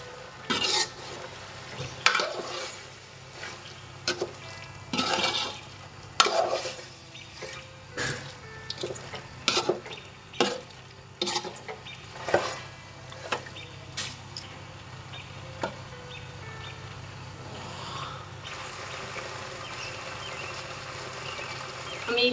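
Fried, ground cumin is stirred into chalta (elephant apple) pickle in a pan, giving repeated scraping strokes of a spoon against the metal. The strokes come in an uneven rhythm over a faint, steady sizzle, close and fairly quiet.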